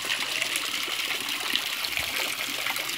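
A small garden pond waterfall keeps up a steady, continuous splash and trickle of falling water, even and unbroken throughout with no voices.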